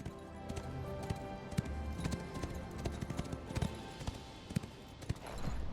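Horse hooves clip-clop in the video game Ashes of Creation, a close, uneven run of sharp hoof strikes over a quiet background with no talk.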